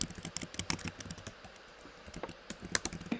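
Rapid, irregular clicking of fingers typing on a computer keyboard during a climate council subcommittee meeting, steady and fairly close for a few seconds with no talking.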